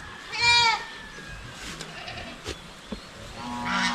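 Goat on a farm bleating once loudly and close, a wavering call near the start, followed by quieter farmyard background with a few faint knocks and a weaker animal sound at the end.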